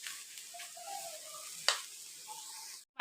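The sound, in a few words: frying fish and dried chilies until crisp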